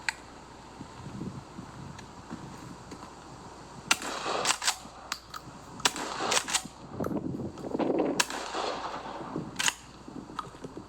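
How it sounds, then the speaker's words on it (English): Shotgun fired with bolo rounds, two large buckshot joined by a steel cable: a series of sharp, sudden cracks at irregular intervals, fairly quiet and somewhat distant, with mechanical clicks between shots. "It is two very large buckshot with a steel cable in between, and hopefully it will be spinning through the air as we shoot."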